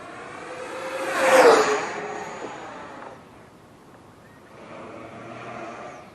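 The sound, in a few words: Freewing Yak 130 RC model jet flying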